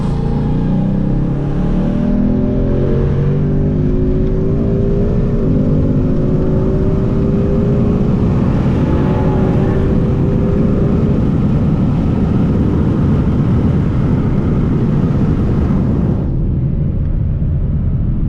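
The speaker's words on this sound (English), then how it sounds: "when you brake, you're gonna have some aggressive downshifting, as you see there. You could probably hear it in the video." A 2018 Ford Mustang GT in sport mode, its V8 roaring close by as the revs fall through aggressive downshifts under braking, loud and continuous with shifting engine tones before cutting off near the end.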